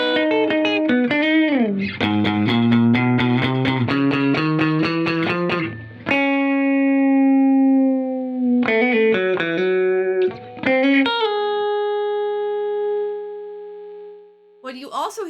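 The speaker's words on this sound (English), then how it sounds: "Yeah, that is a lot of compression happening right now." A bass guitar runs through an Empress Effects Compressor MKII pedal, playing sustained, heavily compressed notes and short phrases, with long even decays and bursts of quick picked notes between them.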